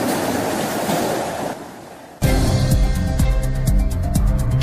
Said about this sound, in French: les vagues continuent de faire leur mouvement